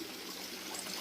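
Flood water from heavy rain rushing through a village bus stand, a steady broadband wash of flowing water, fairly near and continuous with no voices.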